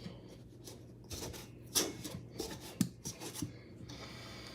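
Pastry cutter working butter into flour in a bowl, a soft rasping, scraping rub with a few sharper clicks of metal blades against the bowl, close and fairly quiet.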